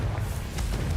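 A deep, rumbling boom from the Confringo explosion spell in The Sims 4 fills one short moment, low and heavy, with no voices.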